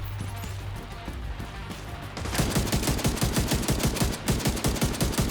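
Rifle fire in the video game The Division 2: after a quieter opening, rapid automatic shots crack out in a fast, even rhythm, loud and close.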